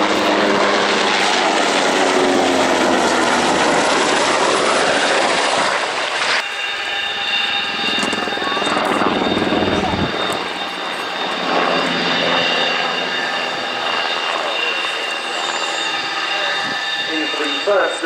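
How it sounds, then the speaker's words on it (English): NHIndustries NH90 TT tactical transport helicopter flying a display at the Royal International Air Tattoo at RAF Fairford, a loud sustained engine and rotor roar with a sharp shift partway through as it manoeuvres, an announcer talking over it. "NHIndustries NH90 TT8, the tactical transport helicopter."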